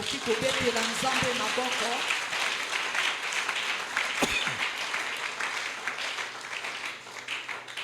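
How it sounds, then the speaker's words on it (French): A church congregation at a service applauds warmly, with dense, sustained clapping throughout; a voice speaks over the start. "Est-ce que tu peux acclamer le Seigneur?"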